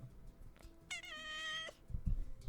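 A hungry cat gives one long, clear meow of about a second, rising and then holding steady, close to the mic in a quiet room, with soft thumps and handling noise before and after.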